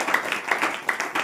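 A church congregation at a Hindi-language Saturday praise meeting claps in a quick steady rhythm of repeated bursts, fairly close and loud.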